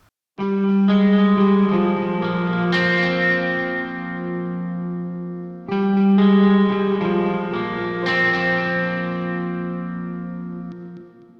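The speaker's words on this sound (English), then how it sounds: "And the clean guitars in solo sounds like this." Clean electric guitar chords in a metal mix ring out twice, each strummed and left to sustain and fade, with a shimmering, effected, slightly broken-up tone and no voices.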